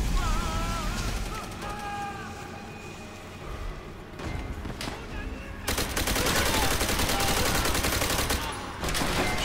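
Dense, loud gunfire from the World War II shooter game Call of Duty: World at War, with sustained automatic fire and bursts of rifle shots mixed with game sound, and a voice talking faintly underneath.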